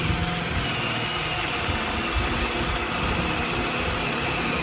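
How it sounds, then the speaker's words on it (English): A drill bores into the dead center of a straight block of wood with a continuous, loud, droning whir that holds steady the whole time, with no voices. "start drilling."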